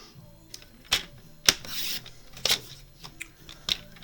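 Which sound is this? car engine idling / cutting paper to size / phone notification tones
cutting paper to size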